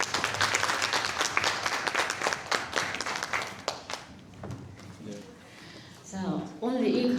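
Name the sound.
audience applause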